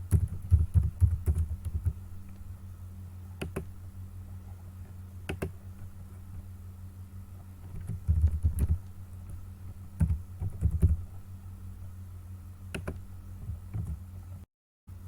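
Computer keyboard typing an email address into a registration form, steady soft key clicks in bursts over a constant low hum, with brief pauses between runs of keystrokes.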